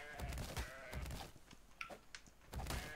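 A video-game goat that resists being knocked out bleats a few times, wavering cries amid clattering game noise and short clicks, moderately loud with no talk.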